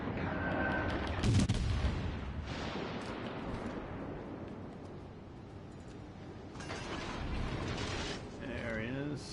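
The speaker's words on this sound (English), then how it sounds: "I might as well shoot at him." Warship main guns firing in World of Warships Legends, a heavy booming salvo early on followed by rumbling mechanical game noise and further distant thuds, with someone talking over it.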